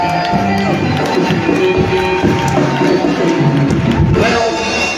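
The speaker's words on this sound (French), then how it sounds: "Acclame pour ça le cri de joie." A church congregation shouts and cheers in joyful acclamation, a loud, dense crowd roar sustained throughout with raised voices and excited cries.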